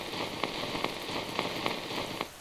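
Steady, even downpour of rain pattering on a surface, with faint periodic taps from drops landing close by, continuous and alone without voices.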